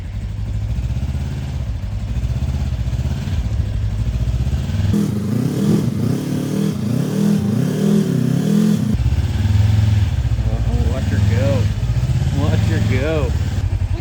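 A Kawasaki KRX4 side-by-side engine runs steadily and loud throughout, with a heavier revving surge in the middle before settling back, while people talk over it near the end.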